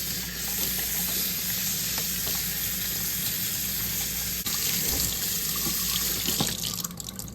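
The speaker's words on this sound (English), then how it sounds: "I'm just gonna wash her hair with dish soap one time" A tap runs steadily and loudly into a sink while a doll's hair is washed with dish soap. The constant hiss and splash carries soft bumps of handling and slight shifts near the end.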